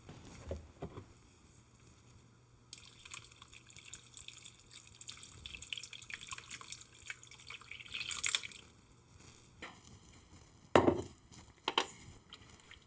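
Water is poured into a pan holding turmeric and salt, with quiet trickles and drips building to a brief louder splash near the end, all fairly faint and without voices.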